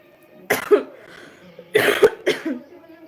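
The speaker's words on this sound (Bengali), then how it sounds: "ওয়েদারটা পুরো চেঞ্জ তাই জন্য কাশি হচ্ছে" Several coughs from one person, a short burst near the start and then a louder double cough with another shortly after, close and clear in a quiet indoor room with no other sound.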